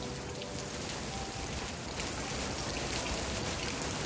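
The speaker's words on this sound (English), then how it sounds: "I love the rain." Steady rain falling outdoors in May, a continuous close hiss of drops that stays even and loud throughout, with no voices.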